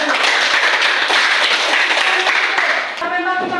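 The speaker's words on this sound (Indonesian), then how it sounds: "Tepuk tangan untuk Janet dulu." Classroom applause for a student named Janet, students clapping loudly and steadily before the sound breaks off into a voice.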